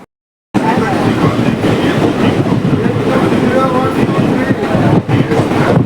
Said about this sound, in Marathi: तर ट्रेन आलेली आहे.